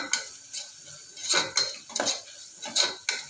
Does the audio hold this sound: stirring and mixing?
yes